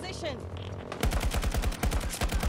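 Rapid automatic gunfire in the shooter Battlefield 2042: a sudden sustained burst of closely spaced, punchy shots, loud and near, following a quieter stretch of in-game ambience.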